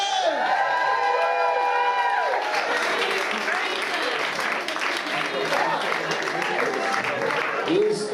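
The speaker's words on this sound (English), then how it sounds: "Ladies and gentlemen, please one more round of applause for Barnaby Griffin!" Wedding guests clap and cheer together in a loud, sustained burst of applause with whoops and crowd noise, voices mixed into the din.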